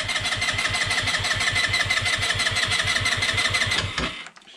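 A Peugeot Django 125/150 scooter engine cranked by its electric starter, a fast even whirring churn held close and loud for about four seconds before it cuts off abruptly without firing.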